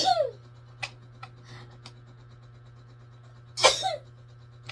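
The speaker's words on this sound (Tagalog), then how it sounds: "kaya bahing na naman ako ng bahing" A person sneezes twice, once at the start and again near the end, each a sharp, forceful burst close to the microphone, separated by quiet small rustles.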